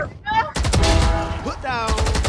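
Rapid gunfire from a Valorant match, a burst of dense broadband shots starting about half a second in and running nearly to the end, loud and close, with players' voices mixed in.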